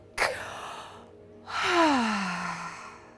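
A deep guided breath during a relaxation breathing exercise, with a short sharp intake followed after a pause by a long, audible, voiced sigh that slowly fades, close and alone.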